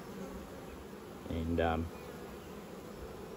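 Honey bees buzzing around an open hive frame in the sun: a low continuous drone with one bee swelling louder close by for a moment, and a voice briefly heard.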